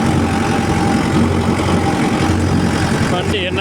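A vehicle engine runs steadily with a low rumbling hum and a rattling vibration from the shaking body, loud and continuous throughout, with no clear talking.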